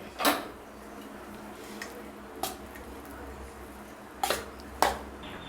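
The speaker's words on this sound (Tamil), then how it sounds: "இதை அப்படியே கிளறிட வேண்டியதாக." Mint rice tossed with ghee-fried cashews in a pan, heard as a few sparse scraping and clinking stirs of a spoon against metal over quiet background hum.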